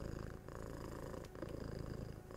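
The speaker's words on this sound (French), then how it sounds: "vive la ronron-thérapie, vive les chats." A domestic cat purring close up, a steady continuous rumbling purr with soft rhythmic pulses throughout, alone with no talk.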